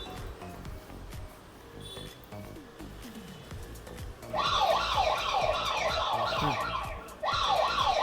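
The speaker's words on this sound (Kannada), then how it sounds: "ಈ ಥರ ನಿಮಗೆ ಡಿಟೆಕ್ಷನ್ ಆದ ತಕ್ಷಣ ನಿಮಗೆ ಸೈರನ್ ಜೊತೆಗೆ ನಿಮಗೆ ಈ ರೀತಿ ಅಲಾರಾಮ್ ಕೂಡ ಬರುತ್ತೆ" A solar-powered three-lens CCTV camera on a farm sounds its alarm siren after detecting motion, a loud electronic wail that starts partway through, cycles steadily, pauses briefly, then starts again, over faint background noise.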